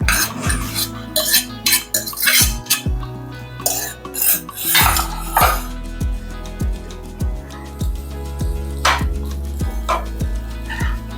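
A spoon scrapes and clinks against a pan as semolina is stirred into vegetables, with repeated metallic knocks in a steady rhythm under low background music.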